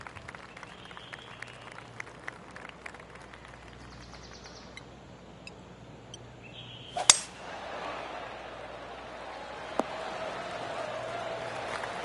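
Polite golf clap applause from a PS4 golf game swells up after a sharp swing strike, continuing as a soft, sustained patter over faint background tones.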